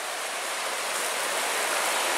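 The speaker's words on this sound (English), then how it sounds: "we just made it down to our first river" A large river on the Superior Hiking Trail, near Devil's Kettle Falls, rushes in a steady, dense wash of flowing water, loud and close with no voices.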